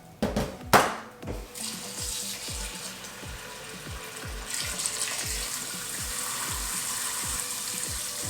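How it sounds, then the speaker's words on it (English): Tap water runs steadily into a pot of rice being washed, a continuous close splashing hiss with faint rhythmic clinks and knocks underneath, preceded by a brief clatter. "I'm gonna wash my rice."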